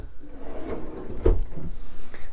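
Big wooden drawer under the bed of an Azimut S6 Sportfly yacht sliding open or shut, one short rolling rumble with a soft knock near the middle, close and clear.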